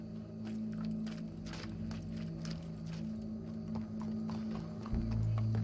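In the video game Red Dead Redemption 2, horse hooves clip-clop in a steady, even rhythm over a constant low hum, fairly close and without any talking.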